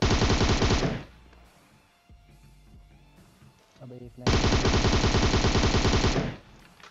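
Automatic rifle spray fire in PUBG Mobile, two long loud sustained bursts separated by a quieter stretch with faint background sounds.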